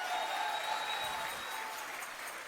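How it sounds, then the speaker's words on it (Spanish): Applause from a congregation at a Sunday church service, a steady wash of many hands clapping at moderate distance with a faint sustained tone behind it, no speech over it. "Denle un aplauso a Dios."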